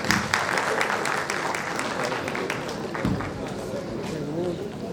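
At a pharmaceutical sciences conference, an audience gives a round of applause for Vice Chancellor Dr. T.R. Sharma, moderately loud scattered clapping with voices talking over it toward the end.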